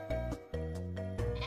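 Sheep weapon in the Worms video game bleating, three loud cartoonish baa calls in quick succession, close and clear with nothing else heard.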